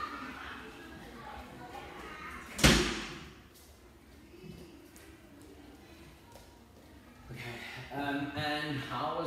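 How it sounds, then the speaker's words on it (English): A door shuts with a single sharp thud partway through, loud against a quiet room, with a person talking before and after it. "I'm trying to close this door."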